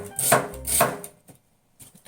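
A knife cuts thin slices of new onion for a salad on a cutting board, two close, crisp chopping strokes followed by a pause and a faint softer tap.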